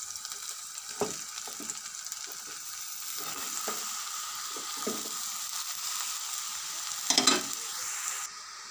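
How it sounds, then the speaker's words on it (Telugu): Ridge gourd pieces fry in hot oil with ginger-garlic paste, giving a steady, fairly quiet sizzling hiss with a few soft clinks and scrapes scattered throughout. "ఇప్పుడు బీరకాయ ముక్కలు వేస్తున్నాను"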